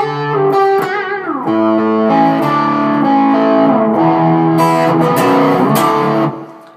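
Electric guitar with effects and distortion plays four bars, open top strings ringing against moving lines that close on inverted power chords, loud and sustained, no voice over it.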